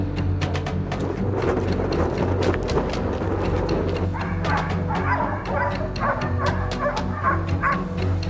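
A pack of hunting dogs bark and yip repeatedly at a cornered wild boar on an open farm field, loud and close with overlapping barks throughout.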